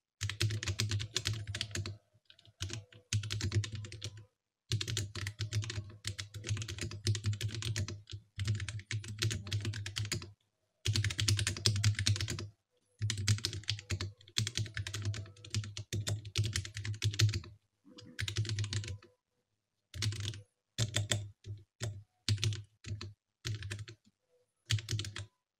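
Typing on a custom 40% mechanical keyboard, a brisk run of close, crisp keystrokes in bursts separated by short pauses, alone with no talking.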